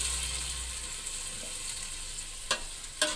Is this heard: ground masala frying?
yes